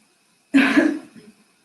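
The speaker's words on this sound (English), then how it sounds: "This one for some reason makes me cough." A single harsh cough during a core and stretching workout bursts out of silence, close and fairly loud, trailing off into a brief rough exhale.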